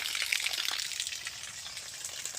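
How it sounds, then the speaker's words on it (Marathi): Water from an opened irrigation valve on a turmeric field gushes and splashes in a steady, hissy stream, fairly faint, with no voices over it. "हे एक वाल चालू केला मित्रांनो पाहू शकता हे पहा एकदम शुद्ध पाणी"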